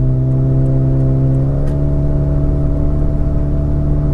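A 2010 Toyota Vios 1.5E, a small, light car, pulls ahead with a loud, steady engine hum and whirring drone close by, holding an even tone throughout.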